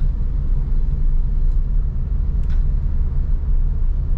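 A Suzuki Ertiga engine pulls steadily in third gear with the clutch eased out and throttle added, a continuous low rumble from inside the cabin with no talk.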